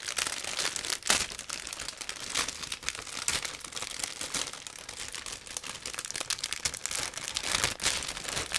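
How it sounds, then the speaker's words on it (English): Plastic bag holding parts of a Zvezda 1/35 Typhoon VDV model kit being torn open, with continuous close crinkling and sharp rustling bursts at an uneven pace. "Plastic bags are a bit tricky to open, but still doable."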